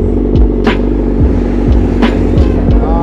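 Kawasaki ZX4 RR motorcycle riding, with a steady loud engine drone broken by a series of gear-shift dips and rises, plus brief bursts of wind or passing noise.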